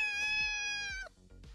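A cat meow from a prank sound device, one long, clear, tonal meow of about a second that ends abruptly, followed by faint low knocks.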